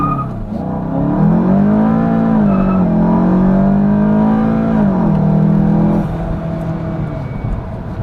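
A Volkswagen Mk7 GTI running a tuned boost map accelerates hard from a launch, its engine note climbing loud and close through the gears with brief dips at the shifts before easing off near the end.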